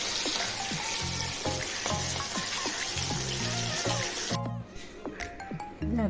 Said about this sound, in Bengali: ইলিশ মাছটা এখন ভাজছি।